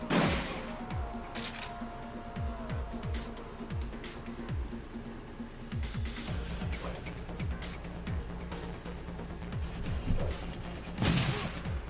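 Rapid shotgun blasts from a turn-based combat scene in the video game Shadowrun Returns, a dense run of sharp repeated bangs with crashes and a loud burst near the end, heard without talk.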